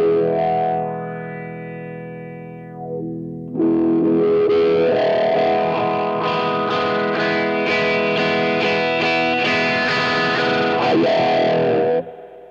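A distorted electric guitar runs through a wah pedal as it opens, so the sustained chords and bent notes sweep from a muffled tone toward a brighter, more cutting sound. It plays loud and alone with a brief dip before a fresh strum.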